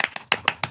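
A few sparse hand claps, about five, spaced evenly and fairly close, with no crowd behind them.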